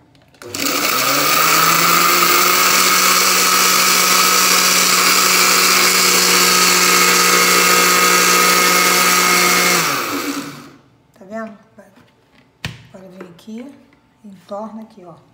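A kitchen blender whirs loud and steady for about ten seconds blending cassava with water, then cuts off, followed by a clunk and a person talking.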